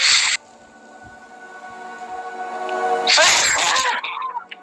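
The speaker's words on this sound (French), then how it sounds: "C'était juste moi qui éternue." A person sneezes during a tabletop role-playing session: a sharp burst, then a longer, louder sneeze a few seconds later over a quiet room background.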